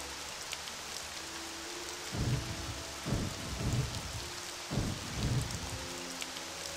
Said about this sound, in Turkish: İyi yağmur yağdı.